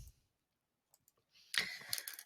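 Brief computer keyboard keys click softly after near-silence, then a short burst of louder, close typing taps ends the moment.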